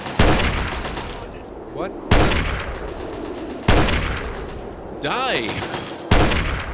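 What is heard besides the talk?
gunfire in the video game Fallout 3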